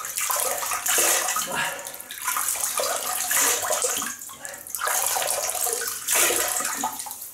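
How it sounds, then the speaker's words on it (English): Water splashes as hands cup it to wet the face before a wet shave at a sink, repeated splashy surges with dripping and running water, close and fairly loud. "so I'll just wet the face"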